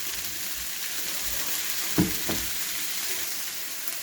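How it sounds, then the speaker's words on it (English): Chicken samosa filling frying on a high flame gives a continuous loud sizzle, broken around the middle by two quick knocks of a spoon stirring the pan, with no speech. "Cook this on high flame and keep mixing it so that it doesn't get burned."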